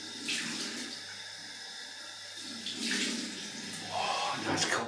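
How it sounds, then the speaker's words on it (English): Cold water runs from a bathroom tap for a rinse after a wet shave, a steady close splashing stream that swells and shifts as hands move under it, with no talking. "Oh, nice cold water rinse."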